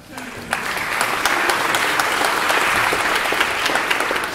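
Loud audience applause at a health talk session, clapping that swells quickly after a brief start and stays dense and sustained, with a voice speaking over it.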